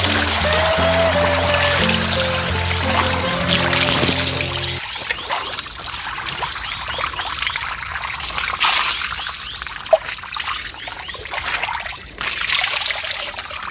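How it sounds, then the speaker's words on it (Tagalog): A steady trickle of liquid, like urine streaming, runs continuously and fairly close, with a low tonal hum in the background during the first few seconds that then fades, leaving the dribbling sound alone. "Kaya umihi na naman."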